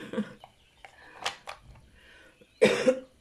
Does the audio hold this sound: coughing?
yes